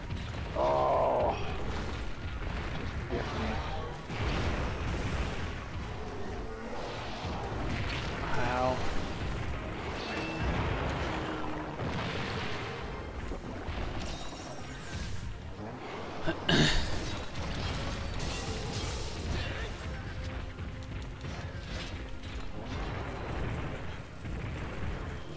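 Siege weapon firing siege ammo in the Monster Hunter video game: dense, continuous mechanical clanking and creaking with booming shots, including a sharp loud burst midway, amid busy game noise and occasional voice.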